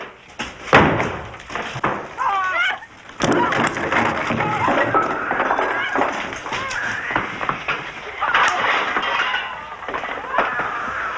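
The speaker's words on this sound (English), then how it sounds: "Go, break the door." A door being forced and broken in during a wartime building search in a 1978 TV drama, with heavy slams and splintering thuds repeating loudly over shouting voices and commotion.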